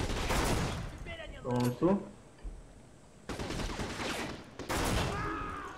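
Video game gunfire from Black on PS2, including a Magnum .44 revolver: a chaotic run of loud, dense shots and blasts with brief lulls, while someone speaks Portuguese briefly over the action.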